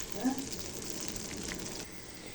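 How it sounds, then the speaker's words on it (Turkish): Butter melts in a pan with a soft, steady sizzle, faint and close, while a voice speaks in Turkish over it. "Bu arada bir yandan da tereyağını eritiyorum."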